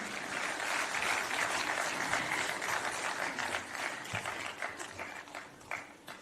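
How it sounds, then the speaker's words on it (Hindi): Audience applause fills a hall at a National Voters' Day celebration as a new voter is invited on stage, a dense steady clatter of many hands that fades slightly toward the end. "आप सभी की प्रोत्साहन भरी तालियों के बीच इन्हें मंच पर आमंत्रित करते हैं"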